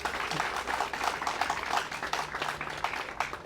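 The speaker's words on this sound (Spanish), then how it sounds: "denle un aplauso al Señor para que se animen" A church congregation claps during a sermon, producing a dense, continuous patter of applause at moderate volume throughout.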